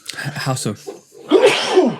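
A single sharp sneeze bursts out after a short exchange of talk, loud and close, with a gasping intake leading into it.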